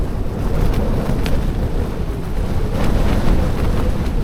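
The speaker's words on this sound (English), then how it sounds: "wind is getting stronger." Strong wind battering a freezing mountain campsite at 2,500 feet, a loud, continuous roar with gusty buffeting against the microphone and no voices.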